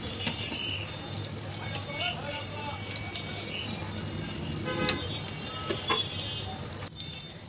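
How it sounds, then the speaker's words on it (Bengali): Lentil and pumpkin flower fritters shallow fry in a pan of oil, giving a steady soft sizzle and crackle throughout, with a few light clinks near the end. "যেহেতু আমি ডুবো তেলে ভাজছি না, শ্যালো ফ্রাই করছি"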